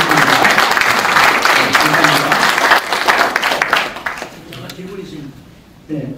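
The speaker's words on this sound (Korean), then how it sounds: "감사의 박수 드리겠습니다" An audience in a church hall auditorium applauds after a lecture at a civic movement's launch ceremony, loud dense clapping that tapers off and gives way to scattered voices.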